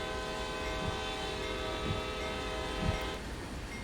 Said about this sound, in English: you can get some really cool effects out of the horn